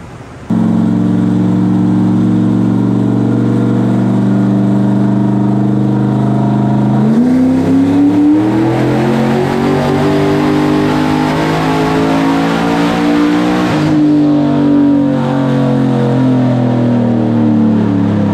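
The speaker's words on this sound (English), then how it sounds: "It's cool hearing that motor run." A shop car's engine runs hard on a dynamometer, a loud steady drone that climbs in pitch through two long pulls, each ending in a shift or lift before the revs rise again.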